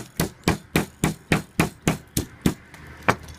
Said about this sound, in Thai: ใช้ค้อนทุบเพื่อจะเอาเอามาเล็ดออกมา